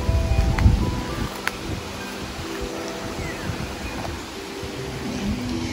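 Wind gusts through trees on a hilly farm lot, a steady broadband rush with a louder gust near the start, alone without voices.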